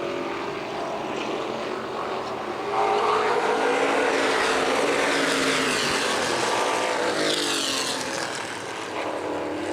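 CRA street stock cars racing off a turn at Winchester Speedway, a loud continuous roar of several engines that builds and sweeps past with rising and falling pitch, close up and with no talk.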